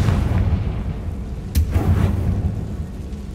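Confringo blast spell exploding in Hogwarts Legacy, a loud booming burst with a sharp crack midway over a rumbling, continuous low-end backdrop, no voices over it.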